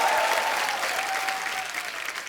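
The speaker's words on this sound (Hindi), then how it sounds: "जोरदार तालियां" Studio audience on a Hindi comedy talk show breaks into sustained, dense applause, loud and even from start to finish with a faint whistle-like tone running through it, no talking over it.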